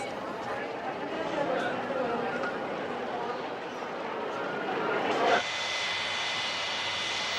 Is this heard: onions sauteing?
no